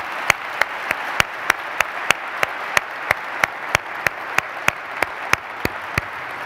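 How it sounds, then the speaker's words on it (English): An audience claps steadily to welcome a guest onstage at a one-on-one talk event, applause sustained and even throughout with no voices over it. "we're going to give Michael Lewis a huge big round of applause for accepting our invitation"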